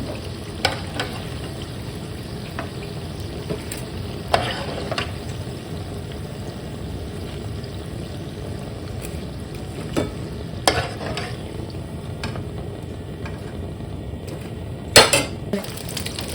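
Samosas fry in hot oil with a low, steady crackle, punctuated by occasional clinks of a utensil against the pan; no one speaks.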